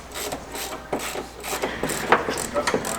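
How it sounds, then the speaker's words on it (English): A ratchet tightens bolts on a PAK System roof rack base plate on a Toyota 4Runner, with repeated rhythmic clicking strokes heard up close and fairly loud. "This is how you're supposed to tighten the bolts."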